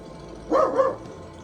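A dog gives a single short double-bark from a little distance, with a quiet background around it.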